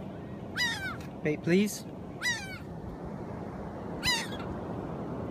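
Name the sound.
seagulls calling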